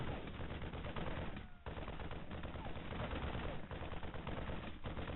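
Rapid gunfire from a Marine in the StarCraft 2 video game crackles continuously during a Terran versus Zerg match, a dense steady rattle that runs throughout with only brief dips.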